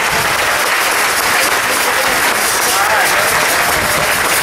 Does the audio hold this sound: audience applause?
yes